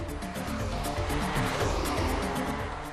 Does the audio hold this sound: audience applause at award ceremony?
no